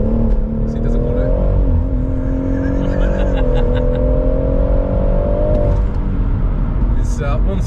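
A stage 2+ tuned BMW M140i engine revs and pulls hard on a damp road, loud and close, with a rising and falling harmonic drone held for about six seconds before easing off, while people talk over it.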